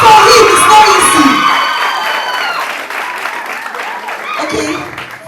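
An audience at a university education fair applauds for a student with loud, dense clapping and some cheering that gradually tapers off, while a voice talks over the start.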